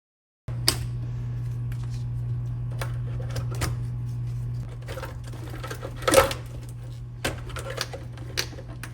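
A wrench or ratchet works 3/8 bolts out of wire loom clamps on the firewall of a 1966 Lincoln Continental, giving sparse clicks and metallic taps over a steady low hum.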